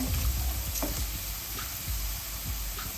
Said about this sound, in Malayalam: ഇതെല്ലാം കുഞ്ഞായിട്ട് അരിഞ്ഞ് വെച്ചേക്കുന്നതല്ലേ എല്ലാം ഒന്ന് വാടിക്കിട്ടട്ടെ ഇതിലോട്ട് ഇത് ഒരു മിനിറ്റ് ഞാനിന്ന് ഇളക്കുന്നുണ്ടേ